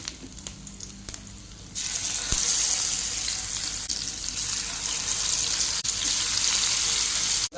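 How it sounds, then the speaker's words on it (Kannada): Bangude mackerel frying in a hot pan, a loud steady sizzle that starts abruptly and continues with light crackle, close up and alone, with no talk over it. "ಬಿಸಿ ಆಯಿತು ಇನ್ನು ಬಂಗಡೆಯನ್ನು ಫ್ರೈ ಮಾಡ್ತೇನೆ"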